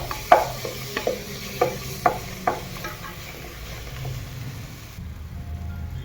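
Spoon scrapes and knocks against a pan as carrot halwa with cardamom powder is stirred, with several distinct taps over a soft steady sizzle.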